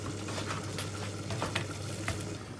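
Garlic-rubbed bread warming on a grill at a London restaurant kitchen, with a steady close sizzle and occasional light scraping and ticks over continuous frying noise.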